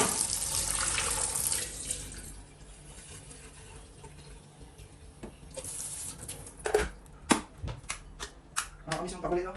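Hot water running from a tap into a pot, a steady close stream that fades out, followed by a series of sharp clanks and knocks of handling.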